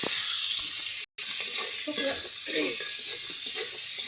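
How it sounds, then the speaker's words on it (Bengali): Fried fish with cumin, dried and green chillies and mustard paste added to hot oil, giving a loud, close, continuous sizzle with stirring scrapes and a brief dropout partway through. "মাছ ভালো করে ভাজা হয়ে গেছে, এবার জিরে, শুকনো ঝাল, কাঁচা ঝাল, সরিষা বাটা দিয়ে দিলাম।"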